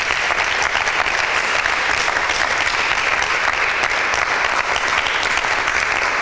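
Loud, sustained applause from a crowd at a Bible quiz greets a correct answer, a thick and steady roar of clapping throughout with no speech on top.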